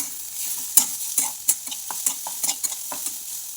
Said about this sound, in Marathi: कढईमध्ये आपण तेल टाकून घेऊया। जिरे टाकायचे, शेंगादाणे, हिरवी मिरची आणि लसूण केलेला आहे मी जाडसर।